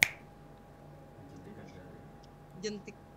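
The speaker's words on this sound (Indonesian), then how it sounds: "jentikan jari" A single sharp finger snap rings out at the very start, close and crisp, followed by quiet room tone with faint voices in the background.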